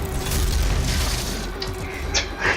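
Rocket explosions in the video game Doom: a loud, sustained roaring blast that slowly fades, with a couple of smaller bursts near the end.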